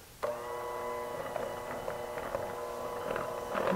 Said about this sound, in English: I'm just using my electric hand mixer, or you can use a whisk or a wooden spoon.